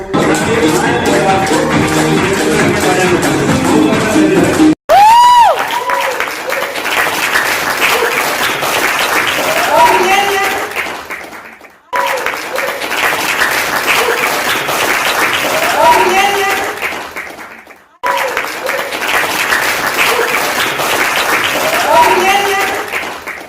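Loud audience applause at a products training event in a hall, sustained clapping welcoming a speaker, preceded by a voice and continuing in long bursts with brief gaps.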